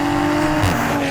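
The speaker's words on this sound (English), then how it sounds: "it's got a very dynamic exhaust note" Steady engine exhaust drone from a 2020 Toyota Supra, a strong constant low tone with a slight swell partway through, near and alone.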